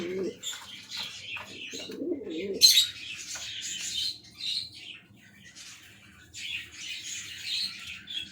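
Lokkha pigeons give soft, low coos and a few squawky chirps, close by with quiet gaps between calls.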